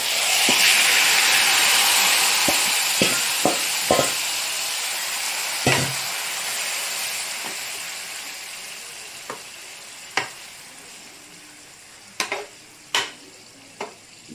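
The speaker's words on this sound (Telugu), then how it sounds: "ఈ విధంగా మటన్ ఆయిల్లో వేసేసుకోవాలి." Marinated mutton hits hot oil with a loud, hissing sizzle that slowly quiets, punctuated by several sharp clinks and knocks of a spoon against the pan.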